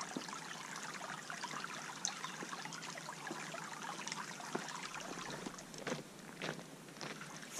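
Faint spring water trickling and dribbling outdoors at a backpacking campsite, a soft continuous flow with a few small splashes and shuffles.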